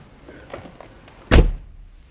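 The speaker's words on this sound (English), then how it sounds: "Close the door." A 2002 Nissan Maxima car door shuts with a single solid thunk, close by, after a few faint clicks and rustles.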